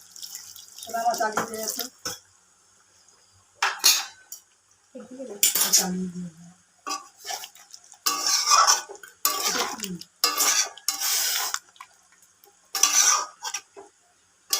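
Methi chicken being stirred in a pan with a little hot water, bursts of scraping and clattering utensil against metal separated by pauses, with brief speech partly overlapping.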